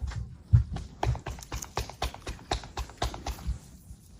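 Injured horse walking on firm ground, hooves clip-clopping in a steady, fairly close rhythm of repeated strikes without any talking over them.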